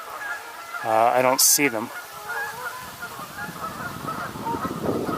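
Canada geese honk in flight above a pond, a short cluster of nasal honks early on at moderate distance, followed by quieter outdoor ambience as someone talks nearby.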